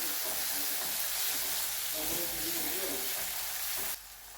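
Chopped tomato hits sautéed onion in a pan and fries with a steady, close sizzle. The sizzle runs continuously and drops away abruptly near the end.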